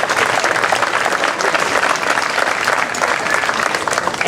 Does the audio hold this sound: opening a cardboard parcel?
no